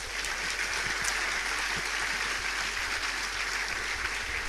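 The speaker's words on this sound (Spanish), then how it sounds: "Un aplauso al Señor." Steady applause from a church congregation after a sermon, dense continuous clapping that holds at an even level throughout, with no speech over it.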